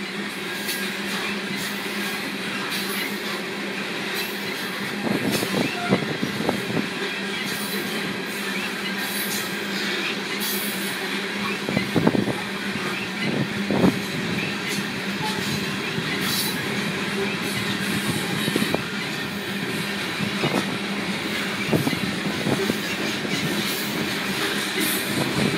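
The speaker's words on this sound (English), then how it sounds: "Wow, this has been a great train for Frisco." A long BNSF and UP coal train heading south through Frisco, Texas, with several locomotives, rolls past close by as a continuous loud rumble of wagons, with rhythmic wheel clatter and occasional squeals and clanks throughout.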